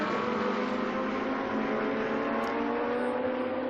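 GT2 race cars at the Dijon circuit, a continuous loud engine roar with a steady pitch as the cars run flat out down the straight.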